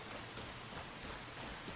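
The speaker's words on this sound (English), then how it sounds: "the rain's a real downer in this game" Rain falls in the video game Enshrouded as a soft, steady hiss with no clear individual drops, faint and continuous with no voices.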